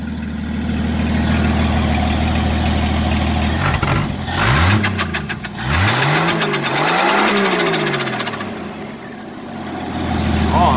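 A 1964 Chevelle V8 engine idles close by, then is revved several times with rising and falling roars before settling back to a steady idle.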